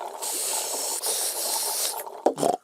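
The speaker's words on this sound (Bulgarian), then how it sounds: "Пепа прави балончета в напитката си." Cartoon sound effect of bubbles blown through a straw into orange juice, a steady fizzy hissing gurgle for about two seconds ending in a few short bubbly pops, with no talk.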